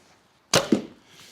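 An arrow loosed from an Alibow Rattle Snake short super recurve bow: a sharp string snap followed by a quick second thud, then a brief fading vibration, close and alone.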